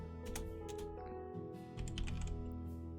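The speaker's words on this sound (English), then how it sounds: "my mic is in front of my keyboard, so that makes it a bit more difficult sometimes to see whatever I'm typing" Steady clicking of fingers typing on a computer keyboard placed just behind a microphone, continuous quick keystrokes at moderate level over a faint background hum.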